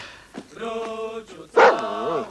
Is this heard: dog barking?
yes